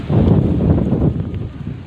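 Strong outdoor wind buffeting a microphone, a loud low rumbling roar that swells and eases over two seconds without any voices.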